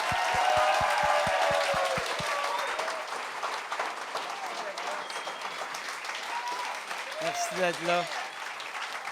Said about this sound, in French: donnez une bonne main d'applaudissement à Steph Poirier et Sugar Sammy